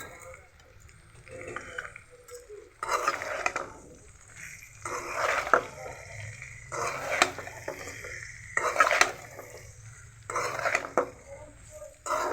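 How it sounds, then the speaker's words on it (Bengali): Raw mango pickle with turmeric, salt and dried chili powder fries in a pan in intermittent bursts of sizzle and stirring, with quiet pauses between. "ভালো মতো আমরা ভেজে নেব"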